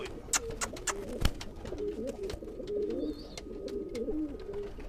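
Pigeons coo in low, rolling bursts, close by, punctuated by sharp clicks and taps, with a faint chirp in the background.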